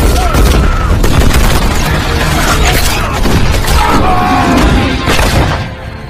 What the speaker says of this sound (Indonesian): seluruh para tentara militer langsung diguyuri peluru oleh kartel mafia